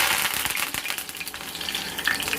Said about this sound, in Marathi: तव्यामध्ये मस्तपैकी तेल तापलेलं आहे छानपैकी आता त्याच्यामध्ये मी कढीपत्ता टाकते